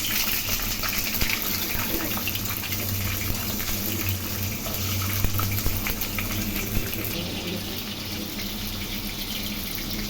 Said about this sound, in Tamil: இப்போ நம்ம வெங்காயம் இதை வதங்கிட்டு இருக்குது